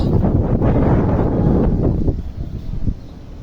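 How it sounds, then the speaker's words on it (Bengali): Strong wind on a rooftop ahead of rain, loud low buffeting and rumbling gusts against the microphone, strongest at first and easing slightly toward the end. "আপনাদের একটু দেখাই কতটা বাতাস"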